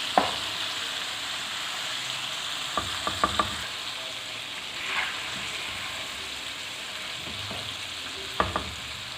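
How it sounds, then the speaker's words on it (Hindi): Chicken popcorn fries with a steady sizzle in a pan while a utensil stirs and turns the pieces, giving a few sharp scraping clicks in a quick cluster and another pair near the end, close and clear with no talk. "अब इसको हिला लेते हैं, चिकन को साइड चेंज कर लेते हैं इसकी।"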